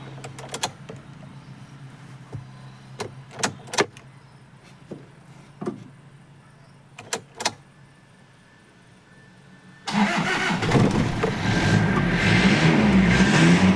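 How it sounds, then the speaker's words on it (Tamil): Toyota Qualis engine turning over and catching, then running steadily and loudly close by after a series of sharp clicks and thumps. "வண்டி ஸ்டார்ட் பண்ணிட்டேன்"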